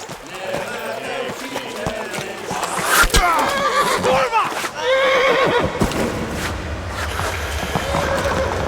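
A horse in the video game Kingdom Come Deliverance whinnies loudly amid clattering hooves and busy game sounds, with voices shouting over the action.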